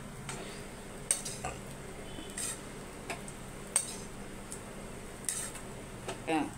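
Food being mixed by hand or spoon in a bowl for a Tamil home-style meal, with soft scraping and stirring, and a few light clinks of utensil on the bowl spaced through the stretch at low volume.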